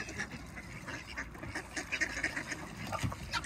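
Ducks, including a Muscovy duck, quack and chatter close by in a rapid, irregular series of calls, with no talking.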